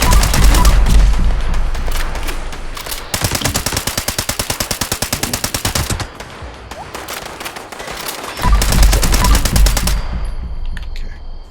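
Automatic fire from a legendary combat rifle in the game Fallout 76 rattles in loud rapid bursts separated by short pauses, with no talking over it.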